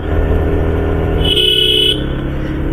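A motorcycle engine pulls uphill in first gear on a winding mountain road between Siliguri and Darjeeling, holding a loud, steady droning whine whose pitch shifts briefly midway.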